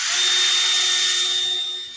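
A power drill whines loudly and steadily at high speed for about two seconds while drilling a pilot hole in a catfishing jug, tapering slightly at the end.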